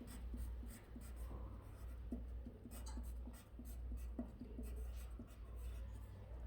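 A pencil or pen writes a name on the back of a plain white sheet of paper, giving a steady run of soft scratchy strokes and taps over a low room hum, with no talk.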